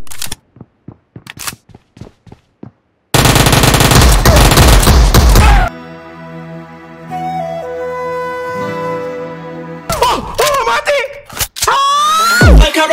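Gunfire from an Uzi rings out in PUBG Mobile. A loud, dense burst of rapid shots is set among sharp clicks, a sustained musical tone and other game sound effects.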